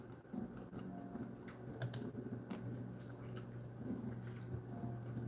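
Quiet typing on a computer keyboard, scattered light clicks and taps at an irregular pace, faint and close, with no talk.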